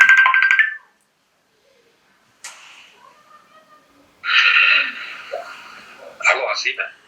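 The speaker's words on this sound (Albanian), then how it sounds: "Qele telefonin, qele." A telephone ringtone sounds in short loud bursts separated by silent gaps, with other faint tones in between, indoors in a drama scene.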